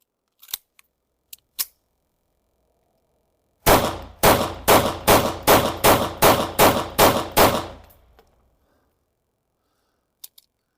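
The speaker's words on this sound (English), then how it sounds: "Let me load some more rounds, shoot again" A Browning BDA 380 pistol fires about ten rounds in a quick, even string of loud, sharp reports, preceded by a few faint mechanical clicks of handling and followed by near silence with a couple of small clicks.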